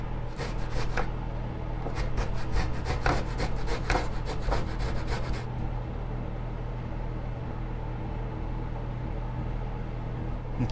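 Fresh ginger is grated in rapid rasping scrapes for about five seconds, a bursty rhythm over a steady kitchen hum, then the scraping stops and only the hum remains.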